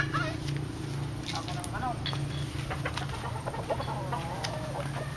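A chicken clucks softly in a busy outdoor setting, with scattered short clucks and calls mixed under steady background noise and nearby voices talking.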